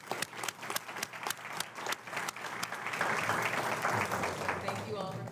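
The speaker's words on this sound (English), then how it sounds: "let's give everybody a round of applause" An audience at a school event claps, first in distinct rhythmic claps and then blending into a fuller sustained round of applause, with talking mixed in.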